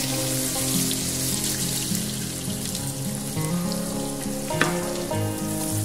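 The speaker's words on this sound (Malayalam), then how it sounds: "നമുക്ക് ഓയിൽ ചൂടാതിന് ശേഷം നമ്മൾ നേരത്തെ കട്ട് ചെയ്ത് വെച്ചിരുന്ന ഒനിയൻ നമുക്ക് ഇതിലേക്ക് ഇടാം." Chopped onions sizzle in hot oil in a non-stick pan while cooking a Hyderabadi chicken dum biryani, a steady close crackling fry with a brief stir partway through and no talking.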